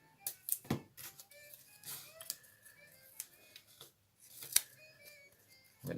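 Adhesive tape is pulled, torn and pressed onto a sculpture armature for a monster bust, giving faint close crackles, short rips and sticky snaps in irregular bursts with quiet gaps between.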